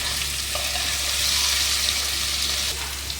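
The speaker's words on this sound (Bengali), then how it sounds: "দেখুন আলুগুলো ভাজা ভাজা হয়ে গেছে" Potatoes, half boiled, sizzle steadily in a pan while cooking banana-flower curry, a loud continuous hiss with a faint clink of a utensil partway through.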